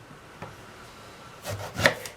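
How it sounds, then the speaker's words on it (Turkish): A couple of quick knife cuts through unpeeled eggplant on a board near the end, short crisp chops after a faint tap, in an otherwise quiet kitchen. "hepsini bir ayarda bu kalınlıkta doğrayalım"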